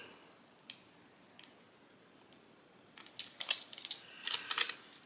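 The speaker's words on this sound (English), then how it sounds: "And then I'm going to cut out a little square." Scissors snipping a small square out of craft material at an Easter decor crafting session, a few isolated quiet snips followed by a quicker cluster of close, crisp cuts.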